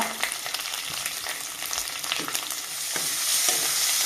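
A tempering of garlic, red chillies and asafoetida fries in hot oil for dal with a dense, continuous crackling sizzle, broken by occasional stirring scrapes and taps of a spoon.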